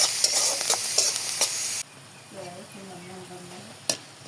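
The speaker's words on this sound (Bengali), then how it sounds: "রসুনটা একটু হালকা ভেজে নেব" Garlic sizzles loudly in hot oil with a few scraping stirs, then the frying cuts off and a voice is heard briefly.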